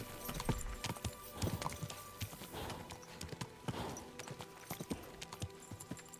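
Hooves of Mark, a steed in a video game, clip-clop in a quick, steady rhythm of sharp close knocks over a busy ambient bed, with no talking.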